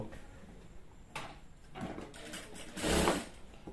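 A tailor's sewing machine stitches the seam of a salwar in short, quiet bursts, with soft clicks and handling noises in between, close by and fairly faint, the loudest run coming near the end.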